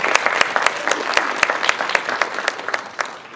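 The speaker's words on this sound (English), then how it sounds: "I just want to pause and give a round of applause for that." Audience applause at a grand opening ceremony for a housing development, a crowd clapping in a dense burst of sharp, overlapping claps that gradually thins and fades.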